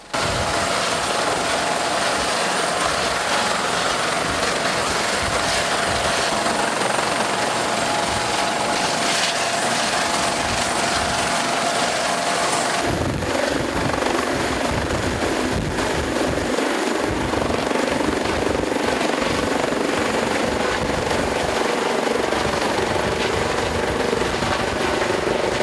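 Police and Navy helicopters flying near a military bus crash site in Cochamó, Chile, with a steady loud rotor and engine roar throughout and no talk.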